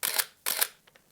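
Canon EOS 1N 35mm film camera firing its shutter twice in quick succession, each a crisp mechanical clack with motor whir, close and clear in a quiet room.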